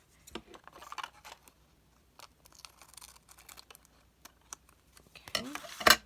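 Scissors trim craft paper in scattered bursts of short, close snips separated by pauses, with a louder rustle of handled paper near the end; no one speaks.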